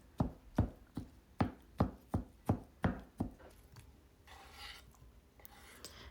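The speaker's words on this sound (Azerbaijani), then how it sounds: "Fileləri doğrayandan sonra çapacaqla bu formada biraz xırdalayıram." A cleaver chops fillets finely on a board for a mushroom dish, making about nine crisp, evenly spaced thuds at close range. The chopping gives way to softer scraping and rustling at the end.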